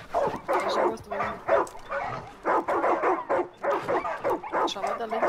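A dog in Far Cry 5 lets out a run of barks, yips and whimpers in uneven bursts, loud and close, with some talking mixed in.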